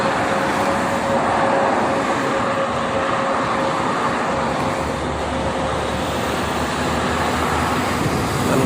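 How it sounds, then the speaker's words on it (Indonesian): Steady, dense roar of traffic on the Jakarta-Cikampek toll road on a morning full of freight trucks, with a continuous rumble of tyres and engines and a faint whine passing through, no voices. "Dan kalau di pagi ini banyaknya"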